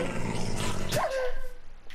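A wolf in the Minecraft video game gives a short, close growl that trails into a thin whine, with brief quieter rustling after it and no talking.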